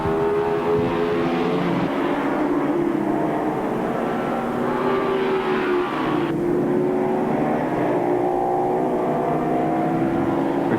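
Racing motorcycles, including a Ducati 600, howl past on track in a 1983 six-hour endurance race, a sustained high engine whine with a pitch shift partway through and no talk.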